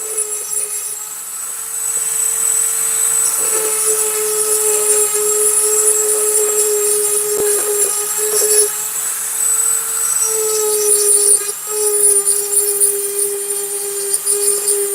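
A handheld rotary tool with a small ball burr carves rounded cheekbones into wood, a continuous high-pitched whine that dips and shifts in pitch under load, close and steady with a sharp tick midway and no speech.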